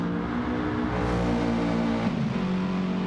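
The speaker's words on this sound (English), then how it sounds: "Something about the sound of that AMG." An AMG race car in a Category 1 race at Yas Marina roars at full throttle, a dense, loud, sustained engine drone that shifts pitch slightly partway through.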